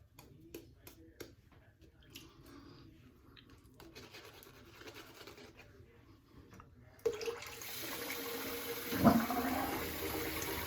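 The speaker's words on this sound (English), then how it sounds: "I'll run up some fresh hot water here." Hot water runs from a tap for a straight razor shave: quiet clicks and handling noises at first, then a sudden, loud, steady rush of flowing water that keeps going to the end.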